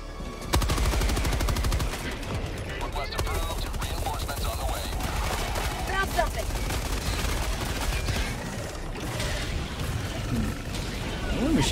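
Sustained machine gun fire from a sci-fi shooter game about liberating planets, a dense, loud rattling barrage running almost continuously with occasional heavier bursts and faint background effects.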